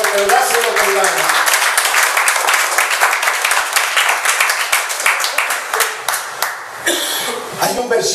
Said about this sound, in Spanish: Dale un aplauso al Señor, pero dáselo con ganas.